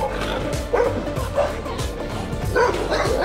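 Stray dogs in a park bark and yip in short repeated bursts over steady outdoor background noise, close and fairly loud, with a few whimpering notes between barks.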